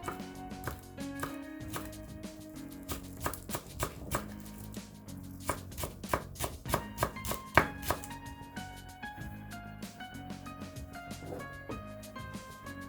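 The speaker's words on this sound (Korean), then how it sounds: "부추는 짧게 썰어 주도록 할게요" A knife chops garlic chives short on a board in quick, steady, crisp strokes close by, with music playing underneath.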